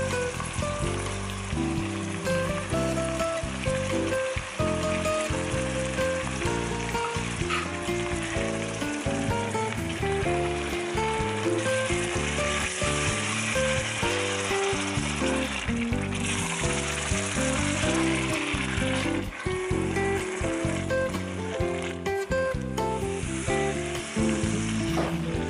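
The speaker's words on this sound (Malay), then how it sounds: "Kita goreng sekejap sampai bawang tu layu saja." Chopped tomato and large onion fry in a pan while making macaroni, a steady loud sizzle with crackling spatter and occasional stirring scrapes throughout, no talking.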